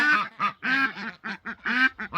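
A barnyard duck quacks close by in a rapid run of about a dozen loud, nasal calls, heard alone without talking.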